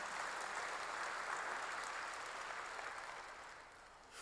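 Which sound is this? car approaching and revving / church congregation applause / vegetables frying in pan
church congregation applause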